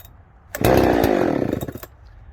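A Husqvarna 372XP chainsaw fires up after a pull and runs briefly with a loud, close, buzzing two-stroke roar that sputters and dies off within about a second and a half.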